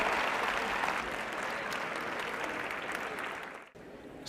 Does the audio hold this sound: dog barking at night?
no